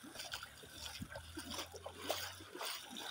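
Fast-flowing floodwater rushes past a village road, a steady broadband wash of splashing and gurgling with a low hum running under it for most of the clip.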